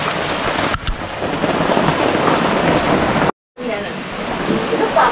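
Heavy typhoon rain from Typhoon Ulysses pours steadily in Sta. Lucia, Pasig, a loud, dense hiss that fills the whole clip, broken by a brief total dropout before the downpour resumes.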